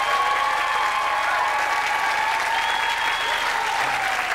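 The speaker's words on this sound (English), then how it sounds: "Please thank all of our panellists who tonight have made the world a safer place." A live studio audience at a panel show claps for the panellists, dense and sustained applause with a little crowd noise, filling the whole stretch.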